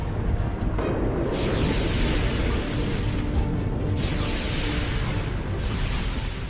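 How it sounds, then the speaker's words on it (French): Recreated explosions from the 1883 eruption of Krakatoa in Indonesia: a loud, continuous roaring rumble with deep booms and rushing blasts that swell in repeated waves. "Des explosions de plus en plus violentes se succèdent."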